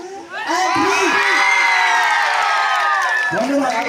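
An audience at a magic show erupts into loud, sustained shouting and whooping, many voices including children's rising together, with some clapping under the cheer.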